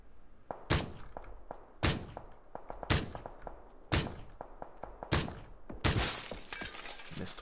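Sniper rifle shots ring out in PUBG, five or six sharp cracks spaced roughly a second apart, each with a brief echoing tail, the last ones followed by a longer burst of noise.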